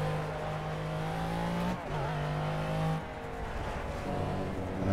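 Race car engine in the Project Cars racing game, a loud continuous drone with steady harmonic pitch that drops at a gear change and then climbs again while cornering onto a straight in fourth gear.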